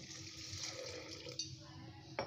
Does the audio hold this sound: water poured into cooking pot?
yes